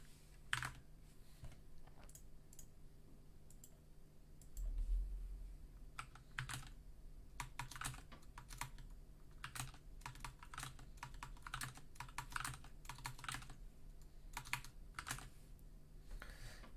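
Rapid clicking of keys on a computer keyboard, steady bursts of typing at close range with short pauses between runs of keystrokes.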